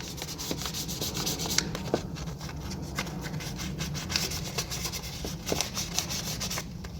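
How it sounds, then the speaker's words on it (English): Continuous close scratchy rubbing of sandpaper being worked over the edges of a part during prep before priming, with uneven strokes and a few small knocks. "Then you're going to take your sandpaper, make sure all your edges are cleaned up."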